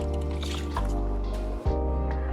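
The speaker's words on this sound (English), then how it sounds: "Now I'm going to add 1 teaspoon of vanilla essence and 3/4 cup of milk." Milk pours and splashes into chocolate loaf cake batter, a short close liquid squish and trickle over a low steady hum.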